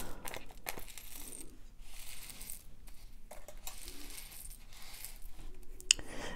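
Small beads being sorted by hand while choosing pieces for a wire bracelet, giving faint, scattered clicks and rattles close by, with a sharper tap near the end and no talking.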